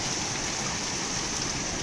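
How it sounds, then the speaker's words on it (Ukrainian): Steady, dense hiss of heavy rain pouring down from a small cloud, constant and loud with no breaks, with hail starting to fall. "Хмара невеличка була, але дощ страшно дивитися."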